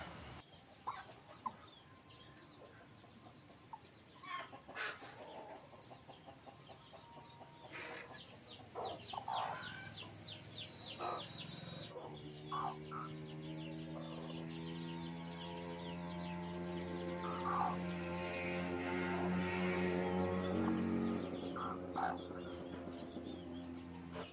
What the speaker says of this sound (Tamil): அந்த முட்டைக்கு வேறு ரெண்டு கோழிகள் வந்து சண்டை போடும் பாருங்கள்